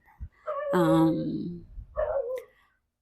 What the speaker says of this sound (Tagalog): Pasensya na sa ingay ng aso. Ang ingay pa ng aso namin.